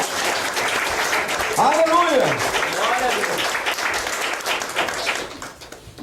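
Church congregation applauding during a sermon, a dense wash of clapping throughout while a preacher's voice rises over it, fading slightly toward the end.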